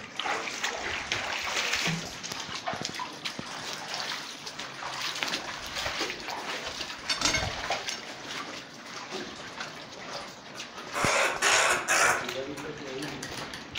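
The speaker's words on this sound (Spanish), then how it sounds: "Camina por el agua" Footsteps splashing through water inside La Gavilana cave, home to oilbirds, a steady wet sloshing with brief louder splashes near the end while people talk quietly in Spanish.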